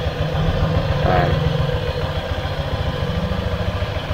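A motorcycle's CVT transmission runs steadily at idle with a low, pulsing engine rumble and a continuous mechanical whir, close and constant throughout, with faint talk in the background.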